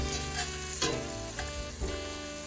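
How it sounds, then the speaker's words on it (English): Garlic and onion sauté in a pan for a vegan pepperpot, giving a continuous loud sizzle with rhythmic scraping as they are stirred every half second or so, with no voices. "So you just want to continue stirring your garlic and onion here until it's nice and soft and tender and transparent."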